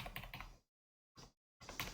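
Computer keyboard arrow keys pressed in quick bursts of soft clicks, broken by brief silent gaps, faint and close, with no talk.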